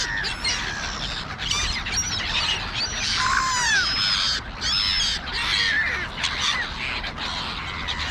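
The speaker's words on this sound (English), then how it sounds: "And they're very vocal. Listen to that." Two gulls call loudly and often at close range, a run of shrill squawks and rising cries over a steady outdoor background hiss.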